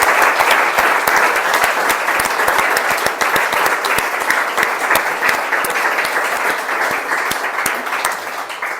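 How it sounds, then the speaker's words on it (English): Enthusiastic audience applause for readers at an evening art gathering, loud and continuous with many hands clapping in a dense, even roar and some sharp individual claps throughout. "Let's have another round of applause for all the readers."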